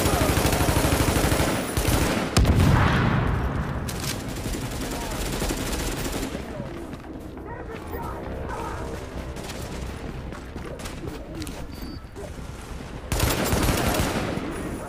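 Gunfire from The Division, a co-op shooter video game, rattles through the whole stretch as dense, loud bursts mixed with explosions and game effects, with a heavier volley near the end.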